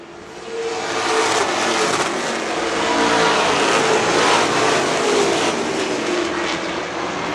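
Prostock race cars lapping an oval track in a short-track race, a continuous loud engine roar from several cars swelling as they pass close by and easing slightly, with no talk over it.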